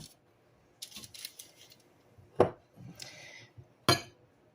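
A metal sheet pan is grabbed and handled in a kitchen while chocolate-covered cherries are prepared. Soft rattles and clinks lead into two sharp, close metallic knocks a second or so apart, with no talking.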